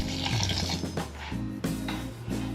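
Hot water pours steadily onto dry coco coir in a container, making a continuous close splashing and gurgling rush with a low hum underneath and a few louder surges.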